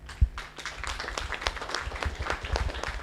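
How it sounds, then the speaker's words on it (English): An audience at an annual satellite-navigation conference claps for the panel speakers, a soft, steady patter of many hands opening with a single thump, heard fairly distant and quiet. "I'd like to just give all of our speakers, panelists, a big round of applause"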